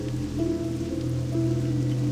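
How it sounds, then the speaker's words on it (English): Steady rain falls in World of Warcraft, a continuous hiss of drops over a low ambient hum, alone without any talk. "Hearing the rain sound."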